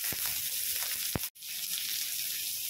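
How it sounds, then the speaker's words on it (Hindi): Carrots and onions fry in a kadhai with a steady, bright sizzle, close and continuous, broken by a few sharp clicks and a brief dropout near the end. "तो इसको अब हम डाल देते हैं कढ़ाई में और थोड़ी देर भूनेंगे। गाजर डाल दिए हैं, प्याज डाल दे रहे हैं"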